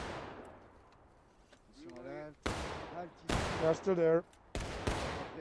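Gunshots and artillery blasts in a multiplayer war game battle, several sharp loud reports spaced a second or so apart, with someone speaking briefly between them.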